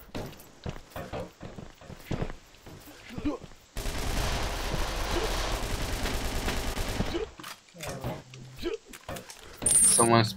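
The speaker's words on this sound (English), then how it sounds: "I shoot him." Gunfire in the online shooter Red Crucible 2: Reborn, rapid bursts of automatic rifle fire sustained for a few seconds, with scattered single shots and footsteps before and after, loud and close.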